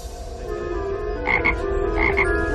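A small toad croaks in short repeated bursts over a steady background hum, fairly close and clear, with no talk over it.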